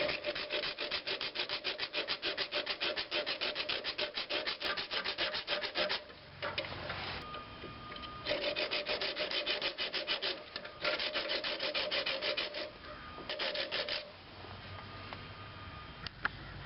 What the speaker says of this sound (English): I have a brand new sharp, fine toothed blade and this little hand hacksaw